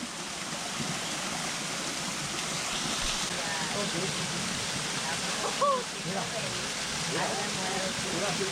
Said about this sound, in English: I could really spend the entire day just here listening to that waterfall coming down